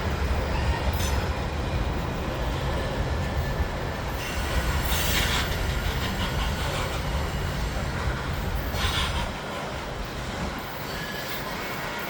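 A CN mixed freight train hauled by Canadian locomotives rolls through Argenson Park onto the Butler Spur, a loud, steady rumble of rail cars with recurring wheel squeals, heard alone and easing slightly near the end.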